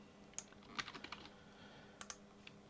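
Typing on a computer keyboard at a desk while entering a database deploy command: a few scattered keystrokes and short quick bursts of clicks, close and fairly quiet, with no talking.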